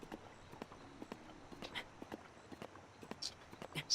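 Horse hooves clip-clopping in Zelda: Breath of the Wild, a steady walking rhythm of soft repeated strikes over game ambience, moderately quiet with no speech.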